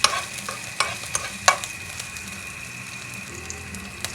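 Onions fry in a pan with a constant sizzle while a spoon scrapes and knocks against the pan in a few sharp, irregular strokes, loudest early on, then the stirring fades to steady frying.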